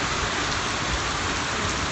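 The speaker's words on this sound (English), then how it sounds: "we're so excited to have rain that I'm filming." Steady rain pours down outdoors in warm weather during a drought, a dense, continuous hiss of drops hitting surfaces, close and even throughout with no talking.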